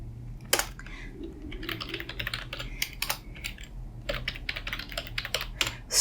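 Typing on a computer keyboard, close and fairly quiet, with bursts of rapid key clicks separated by short pauses and a sharp isolated keystroke near the start.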